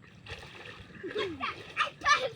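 Children splash about in a cool, gently flowing stream. Bursts of splashing come and go in the foreground, with a voice and light chatter mixed among them.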